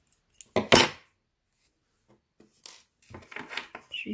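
Scissors snip through sewing thread while making small handmade slippers, giving two sharp close cuts near the start, followed by quieter handling clicks and rustles.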